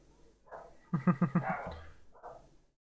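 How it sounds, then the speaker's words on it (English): Several dogs bark in a short burst of four or five quick, fairly loud barks mid-clip, with softer yips before and after, heard somewhat in the background. "Oh, you could probably hear the dogs."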